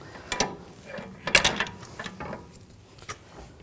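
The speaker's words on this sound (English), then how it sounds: "we're going to torque this nut to 310 foot-pounds" A ratchet clicks in short uneven bursts while tightening the rear hub nut on a 2007-2013 BMW 328i, with a pry bar holding the hub, metallic and close with quiet gaps between pulls.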